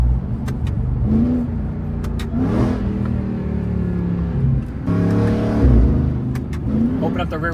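Ram TRX supercharged V8 with Valvetronic Designs universal mufflers and valves open revs hard in a series of sharp, deep bursts, close and loud, each surge rising and falling with brief pauses between, with a voice speaking underneath.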